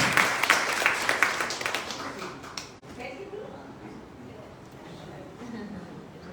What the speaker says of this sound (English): Ladies and gentlemen, big round of applause for Anju.